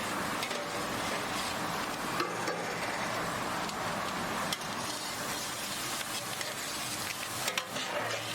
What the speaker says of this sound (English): this is just bulk sauteing